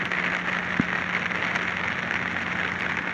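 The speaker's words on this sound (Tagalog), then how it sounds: "wala pa natatapos yung ulan. Grabe pang ulan." Heavy rain pours down steadily during flooding of the Zapote River, a dense continuous hiss with one sharp knock partway through, close and loud with no talking.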